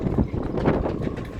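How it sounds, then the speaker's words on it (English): Strong, gusting wind buffets a sailing yacht moored in a marina during a gale, a steady roar with swelling gusts and rushing mic buffeting throughout, no voices. "Meanwhile, the wind is getting stronger."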